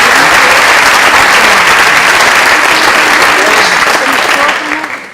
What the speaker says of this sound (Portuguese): também uma salva de palmas